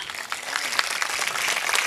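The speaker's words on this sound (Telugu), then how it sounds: "యేసయ్యకి చప్పట్లు కొట్టండి గట్టిగా." A church congregation claps loudly in praise of Jesus, a dense, steady patter of many hands that continues for the whole stretch at fairly even strength.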